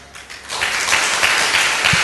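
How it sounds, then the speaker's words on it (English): Audience applause in a church healing service swells from a thin patter into steady, dense clapping from many hands, sustained and fairly loud to the end. "when you all clapped your hands"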